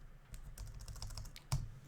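Keys clatter on a computer keyboard in a run of quiet, close, irregular taps, with one sharper keystroke near the end.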